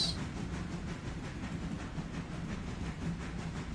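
A train runs in a train simulator video game, heard as a quiet, steady rolling rumble with a soft hiss and no voices over it.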